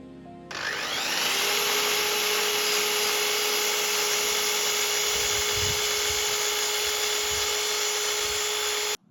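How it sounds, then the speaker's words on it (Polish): A miter saw spins up and cuts through wooden beams for a bike shelter build, a loud steady high-pitched whine held for several seconds before cutting off abruptly, no speech. "Poziomuję wózek i przycinam kantówki na wymierzoną wysokość i kąt."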